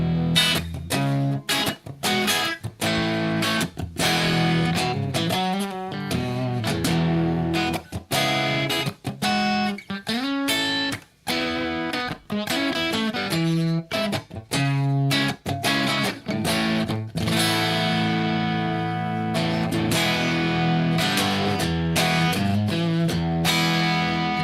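Electric guitar played through a digital distortion effect on a pedalboard, loud and continuous with buzzy, harsh sustained chords and riffs, close and alone without talk.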